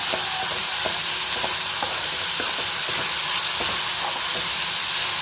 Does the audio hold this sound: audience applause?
no